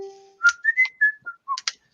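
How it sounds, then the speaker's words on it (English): A man whistles a short, nervous little tune, a string of clear, bright separate notes up close, with no talk over it. "I'm a nervous whistler."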